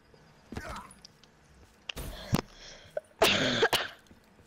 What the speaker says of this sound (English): I know I'm coughing